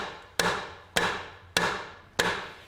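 A hammer taps a tab on a Citroen C5 clutch in a garage, using only its own weight: four sharp metallic knocks at an even, unhurried pace, each ringing briefly, close and fairly quiet, with no talk.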